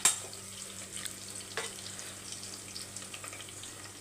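Small onions, or shallots, sizzle softly in a pan in a home kitchen, with a faint steady hiss and occasional light clicks and scrapes from stirring, with no voices.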